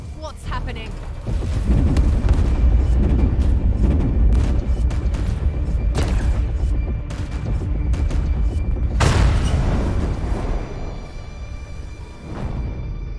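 Void ship guns fire aboard a vessel in Warhammer 40K Chaos Gate Daemonhunters, heavy booming volleys rolling one after another amid deep rumble, with a sharp loud salvo near the end and voices speaking over the din.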